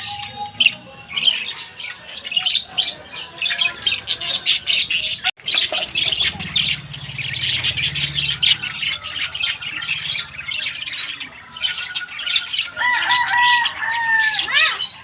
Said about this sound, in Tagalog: Manood na kayo dito sa nag-aaway ng mga bird.